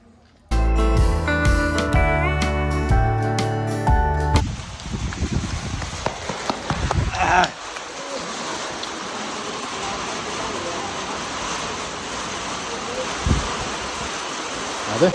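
Steady broadband hiss of rain falling after an opening burst of music, continuing evenly with a few louder splashes near the end.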